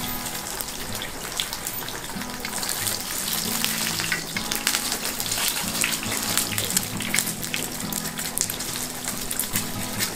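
An omelette fries in a hot pan with a dense, crackling sizzle that runs continuously and fairly loud, with light spattering pops throughout and no voices.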